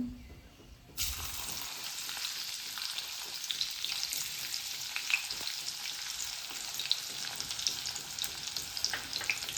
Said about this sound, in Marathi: आलं आणि लसूण छान असं परतून घ्यायचं आहे